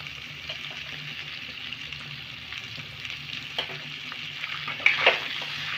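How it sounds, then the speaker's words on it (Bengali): Diced potatoes for aloo jeera fry in a pan over medium heat, giving a steady soft sizzle with a few louder crackles near the end. "গ্যাসের আঁচটাকে মিডিয়ামে রেখে আমি আলুগুলোকে 1 থেকে 2 মিনিটের মতন ভেজে নেব।"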